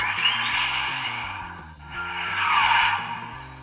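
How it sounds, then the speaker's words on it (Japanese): The Time Bokan 24 DX Mechabuton toy plays its electronic flying sound effect, a tinny whooshing engine-like whine that swells, dips briefly and rises again, loud and close from the toy's speaker. "飛行音ですね、飛んでる音"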